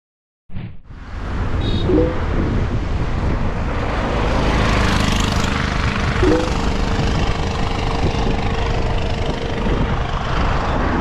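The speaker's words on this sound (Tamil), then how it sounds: "செம்ம காத்து." Strong wind roars against a car driving from Kanyakumari to Thiruchendur, a loud, steady broadband rush that starts abruptly and continues without a break.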